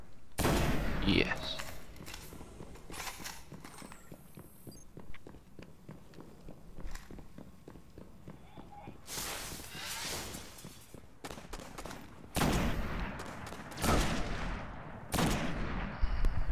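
Gunfire in the video game Destiny, with repeated shots and bursts among running footsteps and game effects over about sixteen seconds; a voice speaks briefly.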